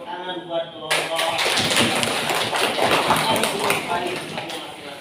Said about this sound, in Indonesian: Baru tepuk tangan buat kelompok.